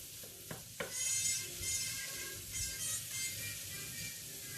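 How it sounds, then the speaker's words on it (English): Shallots and vegetables sizzle softly in a pan while being stirred, with a few clacks of the utensil near the start and a steady faint frying hiss throughout. "But you got to keep mixing them because you want them to be evenly cooked."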